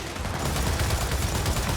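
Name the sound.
turret gunfire in video game Gears of War 4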